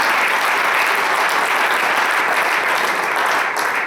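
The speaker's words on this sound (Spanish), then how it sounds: "¿Por qué no le dan un aplauso al Señor?" A church congregation applauds steadily and loudly during a sermon, dense clapping filling the room without letting up.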